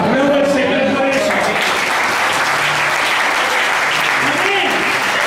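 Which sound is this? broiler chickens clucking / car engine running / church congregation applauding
church congregation applauding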